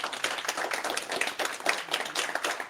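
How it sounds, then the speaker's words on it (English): Audience members at a quantum computing conference clap for a panel, producing a fairly quiet, uneven patter of individual hand claps for nearly three seconds. "I would like you guys to give a round of applause."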